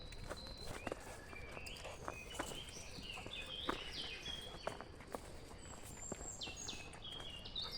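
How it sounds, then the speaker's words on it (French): Bright, chirping birdsong rings out in an outdoor setting, with many short calls repeating across the whole stretch. Footsteps or soft movement sit in the background, and children are not clearly heard. "Avec le bruit des oiseaux, les enfants qui jouent."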